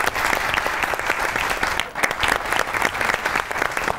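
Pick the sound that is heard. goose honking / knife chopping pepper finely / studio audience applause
studio audience applause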